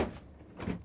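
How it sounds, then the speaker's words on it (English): A Samsung refrigerator's freezer door is pulled open, giving a soft thump at the start and a second, louder release and swing near the end of the short moment. "Let's open the freezer door."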